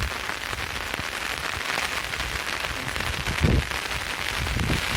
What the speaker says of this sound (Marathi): तर आता पाऊस आला आता घरीच जावं लागेल